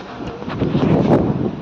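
Strong wind gusting across open farmland near Morbi, kicking up clouds of dust; a steady, rumbling roar with buffeting microphone noise that swells and peaks midway, with no talking.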